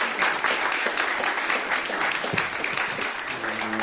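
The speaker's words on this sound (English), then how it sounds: "And here we go with a very lovable round of applause from Unity of Santa Barbara, Frank Ferrante." Church congregation at a Sunday service gives a warm round of applause, steady dense clapping filling the room for several seconds before a voice begins to speak near the end.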